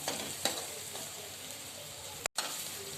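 Masala frying in oil for Khandeshi-style matki usal (spicy sprouted moth bean curry), a steady close sizzle with a few spatula scrapes and a brief dropout near the end.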